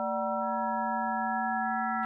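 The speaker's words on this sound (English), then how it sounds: "In this algorithm, the harmonic controls set the mix of the sine waves." Synthesizer module producing additive synthesis from a mix of sine waves, a clean sustained electronic tone with stacked steady partials, one upper partial entering partway, then a brief noisy burst at the very end.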